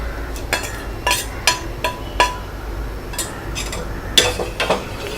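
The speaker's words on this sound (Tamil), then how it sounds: "இப்போ என்ன பண்ணணும்னா இந்த தேங்காயும் ஏலக்காயும் நான் பொடி பண்ணி வச்சதையும் இது கூட மிக்ஸ் பண்ணிக்கிறேன்." A spoon stirs ground coconut and cardamom into boiling milk in a pot, making a series of close, sharp scrapes and clinks against the metal, irregular and spaced about half a second apart.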